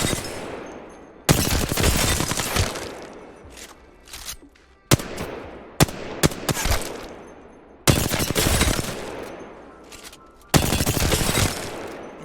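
Sharp, loud bursts of automatic R-301 rifle fire from the shooter game Apex Legends come in about five sprays, with short gaps of fading echo between them.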